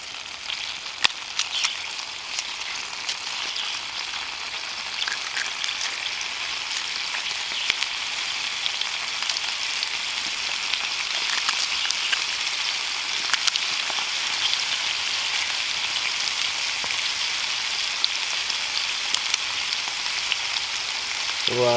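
Fresh garlic frying in a pan at a campsite, a steady crackling sizzle that continues evenly throughout with scattered sharper pops, no talking.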